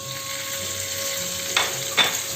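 Sliced artichoke and pieces of bacon frying together in a hot pan, a bright steady sizzle with two sharper bursts near the end as the food is stirred, close and loud, with no voices.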